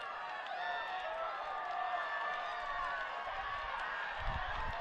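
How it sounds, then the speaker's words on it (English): Crowd at a school rowing final at the Aon Maadi Cup cheers and calls out in a continuous distant roar, with a commentator's voice running over it and a brief low thump near the end. "High fives, cheering."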